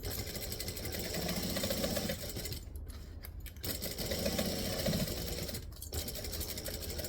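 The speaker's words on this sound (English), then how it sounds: "You can hear the difference in sewing when I'm on a thick part and a thin part." A sewing machine stitches around a bag, passing over thick and thin layers. Its steady mechanical whirr is close, with a few short pauses between runs of stitching and no talking.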